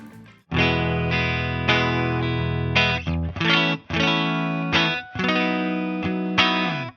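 Electric guitar played through a Guitar Rig 6 Pro amp model set for a signature rock guitar tone, loud distorted chords ringing with chorus and reverb, struck in a rhythmic sequence of sustained strums with brief gaps.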